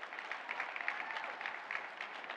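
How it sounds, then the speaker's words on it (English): Audience applause at a plenary session on immigration, a dense, even patter of many hands clapping, moderately distant and steady throughout. "So let's make sure we give them a round of applause."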